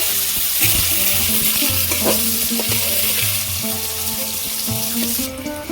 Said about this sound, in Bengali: এবার আমি কুমড়োগুলো ভেজে নেব